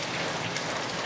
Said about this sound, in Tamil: திரும்பி மழை வேகமா பெய்யுது